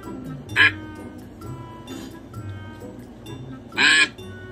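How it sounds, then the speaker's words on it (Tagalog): Two loud, nasal honking quacks ring out about three seconds apart over a low rumble of background noise, with fainter calls between them. "Ang nangunguna po nating pato ay si Ewan, basta."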